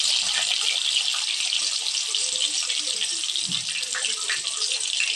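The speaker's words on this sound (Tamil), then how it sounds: "ஒரு பெரிய சைஸ் வெங்காயம் போட்டுக்கலாம்." A large onion sizzling in hot oil in a pan with mustard seeds, chana dal and curry leaves while egg fried rice is cooked, giving a steady, loud, continuous hiss throughout.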